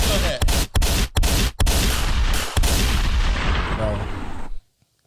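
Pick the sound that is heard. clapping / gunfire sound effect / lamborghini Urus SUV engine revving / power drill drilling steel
gunfire sound effect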